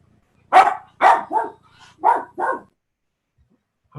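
A dog barks five times in a loose rhythm, clear and close, over the near-silent line of a remote planning commission meeting call, with no voices heard.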